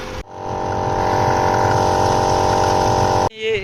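A portable car tyre inflator pump runs loudly and steadily for about three seconds with a dense mechanical buzz, starts abruptly after a short gap, and cuts off sharply near the end.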